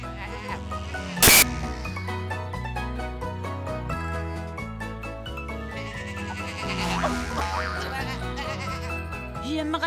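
Cartoon sheep bleat over a busy, bouncy musical score in a children's tractor-farm animation, the calls mixed among the melody, with a sharp burst near the start.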